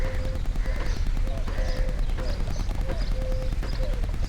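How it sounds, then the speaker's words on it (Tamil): A horse walks on desert sand at a heritage village in Abu Dhabi, its hooves making a steady, close clip-clop rhythm while voices talk over it. "இங்கே பாருங்கள், நாங்கள் ஒரு குதிரையை பார்த்துட்டோம்."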